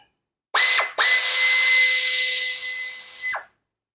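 Power tool with an 8 mm deep socket spinning out a timing cover bolt on a 2015 Ford Escape 1.6 liter engine, a brief whir, a short pause, then a sustained high-pitched whine that winds down and stops.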